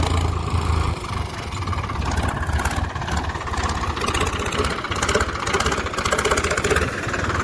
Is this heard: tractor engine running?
yes